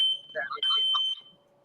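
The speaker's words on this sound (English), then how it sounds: "He set off the alarm." A smoke alarm shrills with a steady piercing high tone during a live sports talk show, while several people talk and laugh over it before the tone fades.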